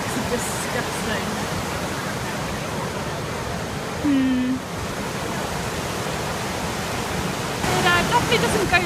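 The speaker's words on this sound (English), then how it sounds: "So we've now arrived at Elephant Falls. It's supposed to be a pretty cool waterfall" Elephant Falls in Da Lat, Vietnam, gives a steady, dense wash of rushing water filling the whole clip; a brief tonal beep or whistle rises over it partway through, and a voice is faintly present.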